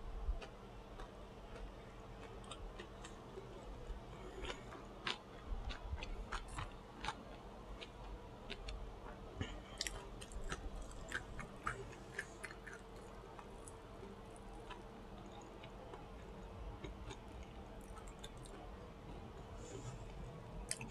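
A Denny's turkey sandwich is chewed close to the microphone, giving soft, wet smacking and clicking mouth sounds that repeat irregularly over a quiet background.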